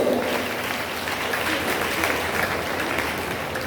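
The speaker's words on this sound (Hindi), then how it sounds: "तालियों से स्वागत हो" Clapping from the gathering at a Bhagwat katha, a religious recitation, after donors are read out, a continuous moderate wash of many hands that holds evenly throughout, a little distant, with faint voices mixed in.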